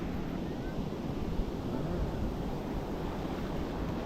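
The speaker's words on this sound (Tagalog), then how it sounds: "Ang lakas ng alon," Strong ocean waves wash continuously onto Bondi Beach in Sydney, a soft, steady roar of surf with some wind noise, fairly faint and with no talk.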